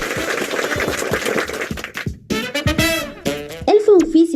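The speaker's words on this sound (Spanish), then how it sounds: "Aplausos, por favor." A short burst of dense clapping from a class audience for about two seconds, then breaking off as a voice speaks over scattered remaining claps.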